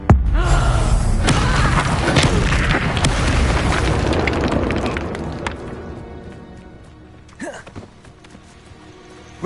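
A Confringo fire spell explodes in Hogwarts Legacy with a loud, sudden blast that rolls into a long roaring, crackling rumble, slowly fading over several seconds, with a few sharp impacts and a brief whoosh near the end.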